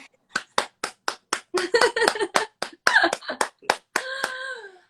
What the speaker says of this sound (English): Let me just clap for that